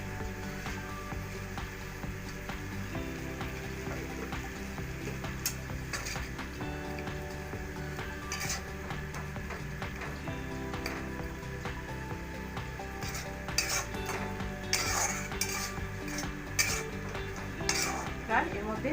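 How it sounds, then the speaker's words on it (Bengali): Tomato, green chilli and rohu fish curry stirred in a pan with a utensil, steady scraping and clinking over a continuous low sizzle, with a few sharper metallic knocks near the end. "দিয়ে এবার বেশ কিছুক্ষণ নাড়াচাড়া করবো"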